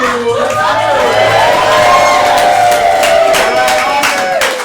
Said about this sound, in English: We're all clapping for that man